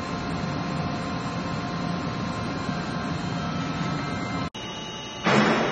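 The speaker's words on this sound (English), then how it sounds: "The loop motor." A loop motor on an industrial feed machine runs with a steady, loud electric hum and whir, broken by a sharp click and a brief dip, then rising slightly louder at the end, with no talk.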